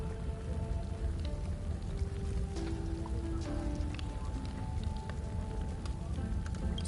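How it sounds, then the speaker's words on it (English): Steady rain pattering on surfaces in the video game Honkai: Star Rail, a dense even hiss with scattered drops and a faint background tone, no talk. "Sounds kind of like rain."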